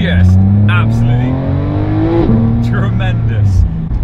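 A 2017 Porsche 991.2 GT3 engine revs loud and close, its pitch climbing steadily toward a peak and then dropping back, with a voice talking over the sustained engine note.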